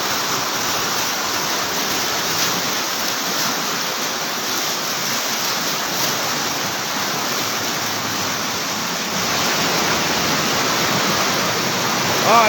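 Floodwater rushes along a road in Bonbon, Libon, Albay, a steady broadband roar of flowing water heard close and continuous throughout, with no speech.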